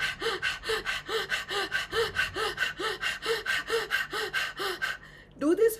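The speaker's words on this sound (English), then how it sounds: "the panting dog pranayama, inhaling and exhaling actively" Rapid rhythmic panting breaths of Swan Pranayama, the panting dog yoga breathing, about a dozen forceful inhale-exhale pulses in steady quick succession, close and loud, ending with a pause and a final audible breath.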